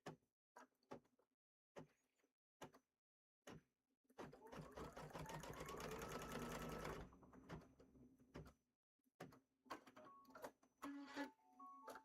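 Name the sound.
sewing machine stitching a pillow wrap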